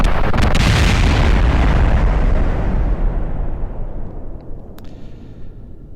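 A rocket exploding in Kerbal Space Program: one loud, broad boom that rumbles and slowly fades over several seconds, with a few small pops in the tail.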